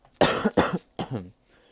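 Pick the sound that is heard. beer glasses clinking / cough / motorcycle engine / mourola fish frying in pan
cough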